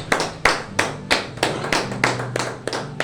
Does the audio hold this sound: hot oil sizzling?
no